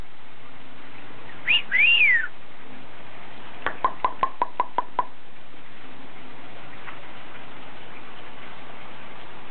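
A pet bird gives one bright, swooping whistle, then after a pause comes a quick, evenly spaced run of about eight sharp clicks. Both sounds are close and clear over a quiet background, with no talking.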